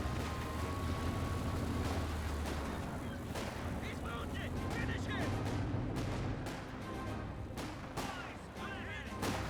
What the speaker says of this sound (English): Multiple of the Cannon Warfers are now hitting the target.